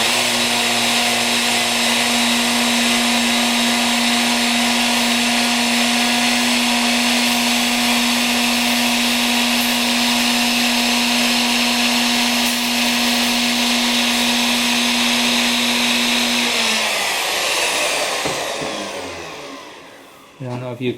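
A router trims the edging on a walnut veneer table top with a loud, constant high whine for about sixteen seconds, then spins down and fades toward silence.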